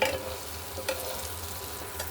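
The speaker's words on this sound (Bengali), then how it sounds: "এখানে লাউ দিয়ে এই যে উচ্ছে ভাজছি" Bitter gourd frying with bottle gourd in a pan, a steady close sizzle with a few scraping strokes of a spatula stirring the pieces.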